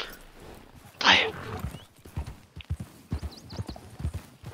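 A purebred Arabian horse's hooves clip-clop in a steady, close walking rhythm, with a loud whinny near the start, faint bird chirps and some background noise.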